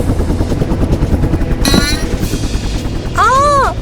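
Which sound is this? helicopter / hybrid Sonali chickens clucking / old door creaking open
helicopter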